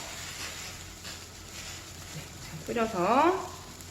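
Tofu hot pot (dubu jeongol) simmering and bubbling in a pot, a soft steady sizzle and burble at low volume, with a voice speaking briefly near the end.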